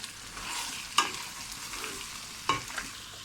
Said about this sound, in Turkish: Tekrardan karıştırıyorum.